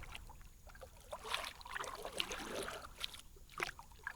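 A small wooden boat is rowed through flooded swamp forest water at Ratargul, Sylhet, giving soft irregular paddle splashes and trickling drips, faint and close.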